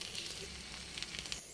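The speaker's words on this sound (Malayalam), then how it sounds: "ഈ സമയത്ത് നമ്മുടെ ചായയൊക്കെ തിളച്ച് വന്നിട്ടുണ്ട് കേട്ടോ" Tea heating on a stove in a village kitchen gives off a steady, soft sizzling hiss with faint crackles throughout, close and alone.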